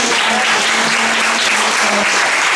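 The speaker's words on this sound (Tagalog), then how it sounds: "Ang palakpak po ay para sa ating mga" A church congregation at a Sunday worship service applauds loudly and continuously, close clapping that fills the whole moment with a faint steady tone beneath it.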